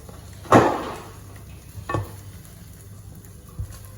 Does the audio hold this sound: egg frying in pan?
yes